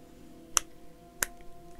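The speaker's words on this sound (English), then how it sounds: "Slow clap." Slow hand clapping, two sharp separate claps about two-thirds of a second apart, close and crisp against a quiet background.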